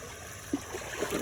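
A small stream trickles and gurgles softly and steadily, with a few brief water splashes standing out near the end.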